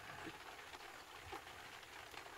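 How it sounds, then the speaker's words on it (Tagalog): Steady rain patters on a tarp-covered shelter in the mountains, a soft continuous hiss of drops with a few slightly louder taps, fairly quiet and with no voices. "Naririnig yung patak ng ulan"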